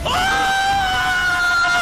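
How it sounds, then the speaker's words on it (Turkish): An eerie scream rings through a forest at dawn. It is loud and sustained, with a sharp rising start and then a held wailing tone lasting under two seconds. "Şafak sökmeye başladığında ormanı ürkütücü bir çığlık kaplıyor."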